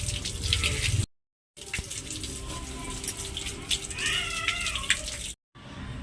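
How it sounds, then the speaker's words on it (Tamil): Water washes fresh kuppaimeni leaves for homemade soap, making a steady running splash from a tap that cuts out twice. A cat meows once in the middle. "முதல்ல இலையை நல்லா வாஷ் பண்ணிக்கலாம்"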